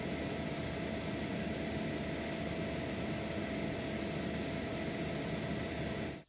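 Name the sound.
cooling fan of MPPT charger in EcoFlow/Bluetti power station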